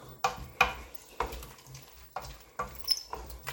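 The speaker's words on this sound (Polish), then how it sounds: "O, ładnie się smaży." Soft sizzling of pork goulash with mushrooms frying in a pan over gas, with several sharp scraping and stirring clatters at irregular intervals, fairly quiet and close.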